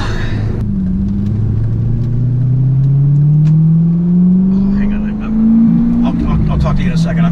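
A 2006 Corvette accelerates onto a freeway, its engine note climbing steadily and loudly from close inside the car, with a brief dip as it shifts and some voices near the end.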